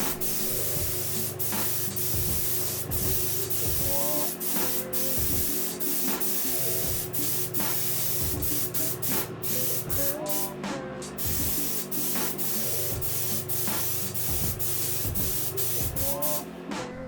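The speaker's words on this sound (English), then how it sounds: "sanding that back smooth again with P600" Rhythmic hand sanding of a helmet's clear coat with P600 sandpaper scrapes back and forth in steady strokes, close up, with a faint constant hum underneath and no voices.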